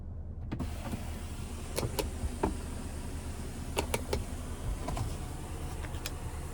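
Power sunroof on a 2024 Cadillac XT6 Luxury AWD 2.0T closing with one touch, a faint steady motor whir under cabin hum, with several sharp clicks and ticks scattered throughout.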